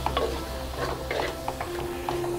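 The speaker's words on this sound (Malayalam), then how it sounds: "നന്നായി ഒന്ന് ഇളക്കുക." A spoon stirs chopped tomatoes through a fish curry masala in a pan, with repeated soft scraping strokes and a light sizzle running beneath them. The fish curry is a Kerala-style pineapple fish curry.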